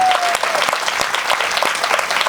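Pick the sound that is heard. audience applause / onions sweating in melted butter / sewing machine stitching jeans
audience applause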